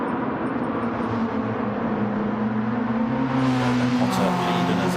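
Classic DTM race cars, including a Mercedes-Benz 190, roar around Trial Mountain circuit in a racing video game, with sustained engine drones shifting pitch as they accelerate, and a voice talking alongside.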